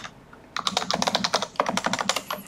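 Rapid, close clattering keystrokes on a computer keyboard, starting after a brief quiet pause and running in a dense, uneven burst of clicks.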